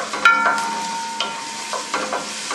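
Fish frying in a pan until golden brown for a fish stew, a soft steady sizzle with occasional light stirring and scraping sounds close by, no voices.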